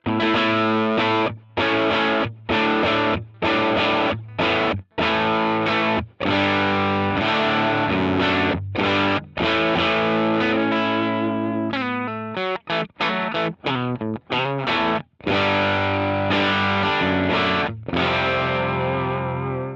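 Distorted electric guitar chords ring out through a Tubesteader Eggnog overdrive pedal, sustained strums with brief gaps and a faster choppy passage near the end.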